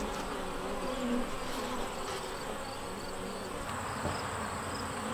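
Honey bees buzzing around an open hive body, a dense steady hum close up with a few louder passes as individual bees fly near.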